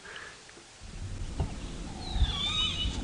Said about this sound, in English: It's a kudu that's barking. It sounds like a dog,